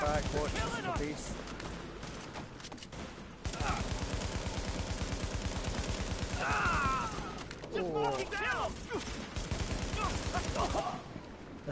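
Rapid bursts of video game gunfire, including a shotgun, crackle in dense repeated volleys with short pauses, at a moderate level, with faint voices mixed in.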